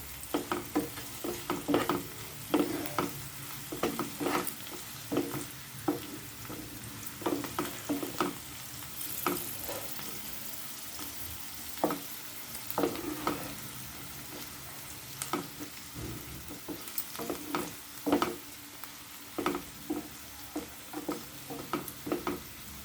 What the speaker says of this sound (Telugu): కొంచెం పసుపు పొడి మొత్తాన్ని ఎలా వేయించుకోవాలి